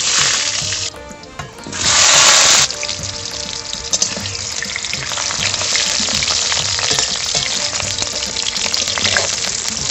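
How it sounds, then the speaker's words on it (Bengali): Potatoes frying in hot oil in a wok, a steady close crackling sizzle that swells into a loud hiss for a moment early on, then settles into a continuous bubbling fry. "তেল গরম হয়ে গেছে, এখন আমি আলুগুলো ভেজে নেব।"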